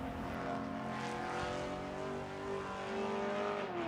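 A GT/GP class race car runs in qualifying at Utah Motorsports Park as a steady, loud engine drone, with the pitch shifting slightly as it holds speed past the microphone.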